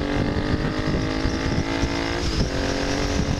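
A 35-year-old Honda CX 500 cafe racer motorcycle roars loudly and continuously, revving hard and accelerating as it passes a car, with wind rush throughout.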